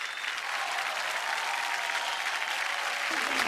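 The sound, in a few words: audience applause on TV show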